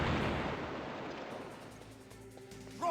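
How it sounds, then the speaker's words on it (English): C4 charge exploding to blow up a wall in Metal Gear Solid Integral on PC, a loud rumbling blast that decays over a few seconds, followed by a short sharp game sound at the end. "he will blow up the walls with the C4"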